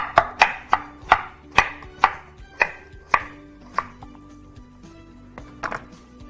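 A knife chops through starchy potatoes on a board, about a dozen sharp, fairly loud cuts in an uneven rhythm that slows and thins toward the end.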